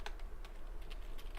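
Keys clatter steadily on a computer keyboard as an Active Directory adprep forestprep command is typed at an administrator command prompt on Windows Server, close and continuous with no talk.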